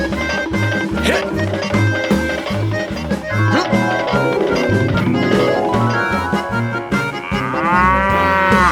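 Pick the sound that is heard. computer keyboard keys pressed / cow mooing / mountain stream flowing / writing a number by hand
cow mooing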